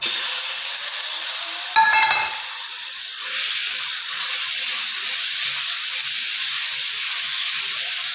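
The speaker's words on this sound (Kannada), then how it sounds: "ಇವಾಗ ಇದೇ ಬಾಣಲಿಗೆ ತುರಿದಿಟ್ಕೊಂಡಿರೋ ಪಪ್ಪಾಯ ಹಾಕೊಳ್ಳೋಣ." Grated papaya dropped into a hot pan with leftover fat for papaya halwa, a brief loud burst of sizzling and stirring, then a steady, even hiss of frying that carries on alone.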